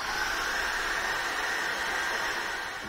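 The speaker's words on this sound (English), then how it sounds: "I'm going to dry that off very quickly with a hairdryer." A hair dryer blows steadily at close range, drying acrylic paint. It makes a constant loud whooshing hiss with no talk.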